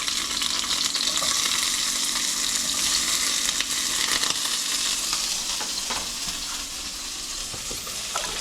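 Onions sizzling and frying in a hot pan for a Sri Lankan cauliflower and salmon curry, a steady loud crackling hiss throughout, with occasional stirring scrapes and no voices.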